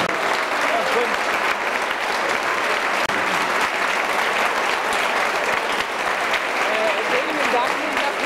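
A large audience gives loud, sustained applause as a guest is called up to the stage at a Portuguese hair fashion event in 1998, the clapping dense and unbroken throughout.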